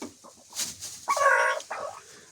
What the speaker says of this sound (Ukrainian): Ось тут курочка хоче нестися.